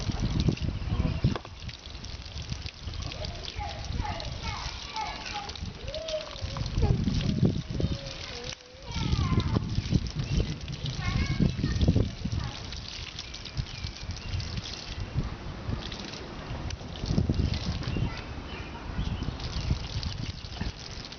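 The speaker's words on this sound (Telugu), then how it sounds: "బండి కడుక్కుంటున్నాడు" Water splashes and trickles unevenly as a motorbike, tyres included, is washed outdoors, with people talking over the running water throughout.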